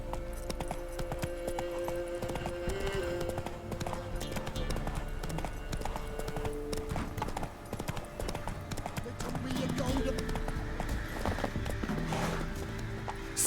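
Roach, a horse in The Witcher 3, gallops with steady clip-clop hoofbeats and an occasional whinny, running on under a constant bed of game music and ambience.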